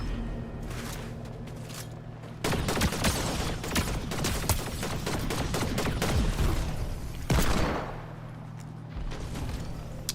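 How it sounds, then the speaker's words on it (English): Rapid automatic gunfire inside a Fortnite match, bursts of shots crackling in quick succession with heavier booming stretches, loud and fairly close over a steady game backdrop. "Why do I hear someone shooting Kimmy?"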